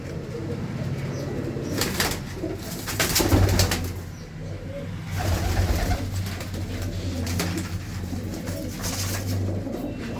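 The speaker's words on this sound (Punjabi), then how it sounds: "ਇੱਕ ਇੱਕ ਖੁੱਡੇ 'ਚ ਦੇਖੋ 10 10 12 12 ਕਬੂਤਰ ਬਾਈ ਹੁਣਾਂ ਨੇ ਡੱਕੇ ਹੋਏ ਆ" A coop in Punjab holds ten to twelve pigeons per compartment, and the birds keep up a steady, low cooing at close range. Bursts of wing flapping and shuffling break in now and then. No one speaks.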